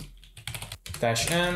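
Keystrokes on a computer keyboard while entering a Python command, brief clicks running under someone speaking.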